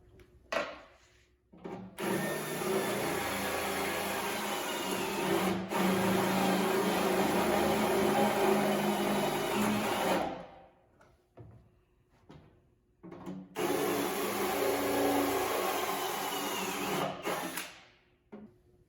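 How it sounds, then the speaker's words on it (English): A drill with a step bit runs in two long bursts with a pause between, grinding and whirring through material up close toward a 5/8 inch hole, with short clicks and knocks in the gaps. "I'm going to use a step bit today."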